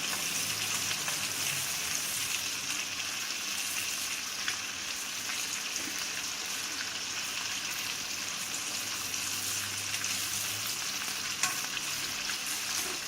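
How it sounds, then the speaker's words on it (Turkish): Continuous bright sizzling of beef frying in a hot pan, steady throughout with faint stirring scrapes and no talking. "Şöyle altını üstünü kızartacağız"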